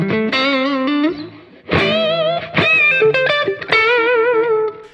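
Electric guitar played through stereo chorus and analog stereo delay effects, ringing sustained chords in several strummed phrases with shimmering, slightly distorted tone, loud and alone.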